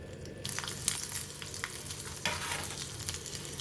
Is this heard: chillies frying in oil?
yes